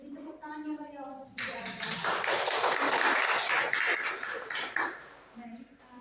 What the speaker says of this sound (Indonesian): Beri tepuk tangannya bagi Allah.